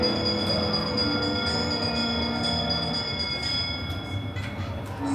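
A bell rings on the Haunted Mansion dark ride at Magic Kingdom, its sustained tones sounding over a continuous rumble of the ride vehicles moving along the track.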